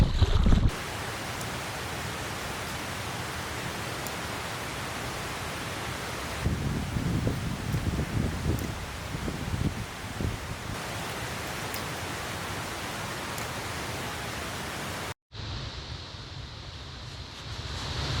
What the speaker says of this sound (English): Some windy gusts out there making the trees sway a little bit